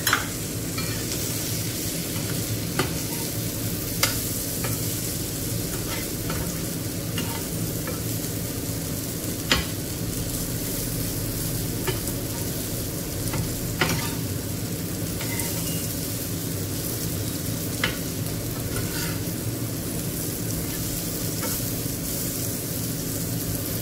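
Chickpeas and vegetables stirred in a pan, with a steady sizzle underneath and scattered spoon scrapes and taps over about twenty-four seconds, moderately loud and close, no talking.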